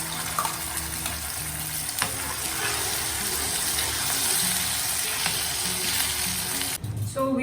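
Spice paste hits hot oil already holding cinnamon, cardamom, cumin and black pepper, giving a loud, steady sizzle and crackle that runs almost the whole time, with a brief stirring clatter near the end and no talk.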